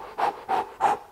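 Three quick, forceful panting breaths in an even rhythm, close and clear, used as a breathing exercise to energize the body.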